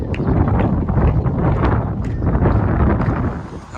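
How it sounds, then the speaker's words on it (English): Steady wind gusts across the microphone at a breezy Mount of Olives lookout facing the Temple Mount, a constant loud rumble with no talk. "It's very breezy, cool on a hot day"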